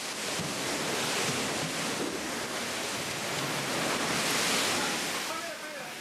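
Tsunami floodwater rushes below a building in Sendai, Japan, as a broad, continuous roar of churning water and wind-like noise that swells and fades slightly and never lets up.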